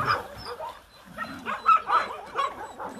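Several dogs bark at an animal shelter, a run of loud, overlapping barks and yips close by with no talk over them.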